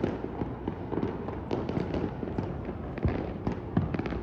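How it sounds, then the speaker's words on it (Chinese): New Year fireworks burst over the sea at Pattaya, a continuous crackle of distant pops and thuds with occasional louder booms and a crowd murmuring underneath. "整个芭提雅到处都是烟花"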